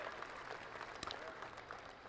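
Applause from a gallery of spectators on a golf course in PGA Tour 2K23, a steady soft patter of clapping running evenly through the short stretch, faint and distant.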